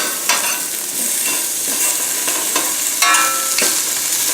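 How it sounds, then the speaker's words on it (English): Cabbage and caraway seeds are tossed into a hot frying pan, giving a loud, close sizzle broken by repeated scraping stir strokes and clinks at an uneven rhythm, with no voices. "then I'm going to toss in the cabbage, the caraway seeds"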